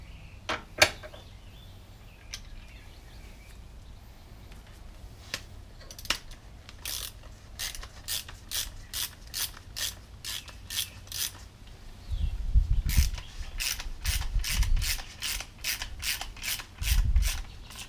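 A ratchet wrench clicks close by while working on a Honda Goldwing front fork during a seal replacement, bursts of rapid even clicks following some scattered taps and handling sounds, with low thumps toward the end.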